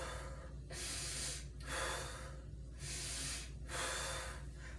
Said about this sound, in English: She's going to teach you how to do belly breathing,